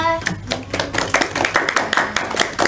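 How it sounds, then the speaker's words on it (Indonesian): Classroom applause during a history microteaching session, rapid clapping from a small group that follows a student's answer and carries on steadily for several seconds, close and fairly loud. "Oke, tepuk tangan buat Mbak Maiza."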